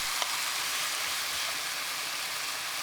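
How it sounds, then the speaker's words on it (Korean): Sour kimchi and pork stir-fry in a pan over high heat, giving a dense, even sizzle that runs unbroken and close with no voices over it. "고기를 한쪽으로 모으고 반대쪽 김치 넣고 살짝 볶아주세요"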